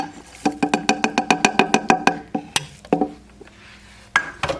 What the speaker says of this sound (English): now I'm going to add in some green onions and cilantro